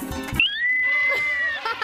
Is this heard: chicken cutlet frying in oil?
no